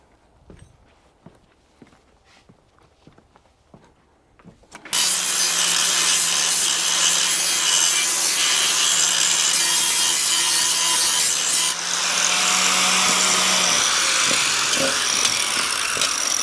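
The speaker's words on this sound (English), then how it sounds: "Let me grab the grinder." A power grinder starts abruptly after quiet shuffling and whines steadily and loudly for about nine seconds as it smooths a surface, then its pitch drops as it winds down.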